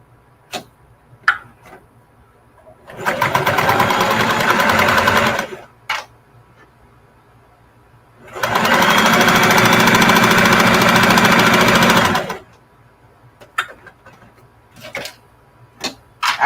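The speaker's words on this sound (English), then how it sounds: "I'm just going to sew straight down on this one as well" A sewing machine stitches a straight seam down the fabric of an arm nursing pillow, running in two loud, steady bursts of about three and four seconds, with small clicks and handling noises in the pauses between.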